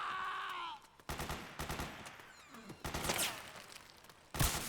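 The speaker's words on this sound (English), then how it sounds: "Suppressing fire!" Suppressing gunfire in Metal Gear Solid 4 comes as a ragged series of sharp bursts and single shots, loud and close, with a brief synth tone at the start and a groaning voice partway through.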